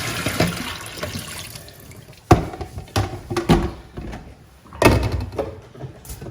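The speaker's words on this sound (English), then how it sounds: "Get them all sliced up in my pan. I'm gonna rinse them off." Tap water running over sliced potatoes in a pan, splashing and sloshing with several sharp knocks and clatters of the pan as they are rinsed, fairly close.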